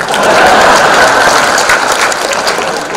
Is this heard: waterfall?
no